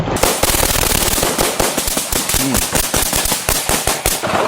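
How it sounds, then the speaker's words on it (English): Rapid bursts of gunfire crack out during a police shootout, a dense volley of loud, closely spaced shots filling the whole stretch with barely a pause. "We have more shots fired."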